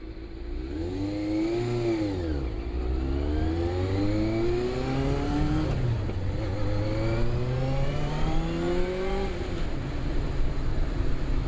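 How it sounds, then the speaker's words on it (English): A 1988 Yamaha FZR400 EXUP motorcycle engine revs high and steady, its pitch climbing and dropping through several gear changes, loud and close throughout with no talking. "You can hear how high revving the bike is."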